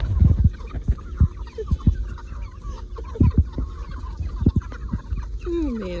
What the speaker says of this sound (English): we got 3 lonely chickens that